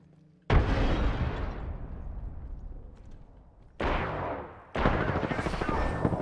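A frag grenade goes off in a shooter game with a sharp, loud blast and a long roaring decay, followed by two more heavy bursts of explosive noise close by, with players talking.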